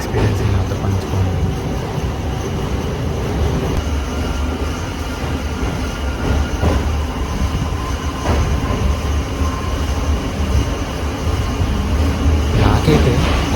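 A special passenger train running from Vijayawada to Guntur crosses a railway bridge, with a loud continuous rumble of wheels and carriages and a few sharp rail clicks, heard close from on board.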